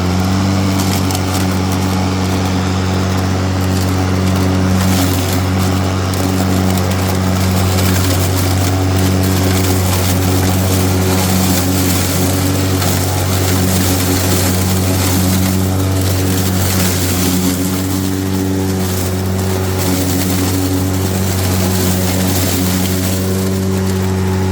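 Honda battery-powered electric lawn mower running steadily, a loud continuous whirring hum of the blade motor with stable tones and no talk over it.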